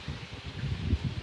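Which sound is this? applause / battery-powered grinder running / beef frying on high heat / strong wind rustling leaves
strong wind rustling leaves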